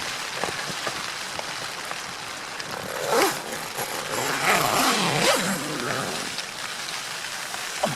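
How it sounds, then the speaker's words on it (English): Heavy rain drums on a tent during a wild camp in Scotland, a dense, steady hiss close around, swelling slightly midway, with no talk. "There we go, can we see the rain?"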